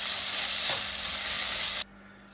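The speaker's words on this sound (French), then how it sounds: "je viens rajouter donc notre préparation de poivrons et les oignons là, dans le jus. Je mélange le tout" Chicken with peppers and onions sizzles loudly in a pan while being stirred, then the sizzle cuts off abruptly near the end, leaving near silence.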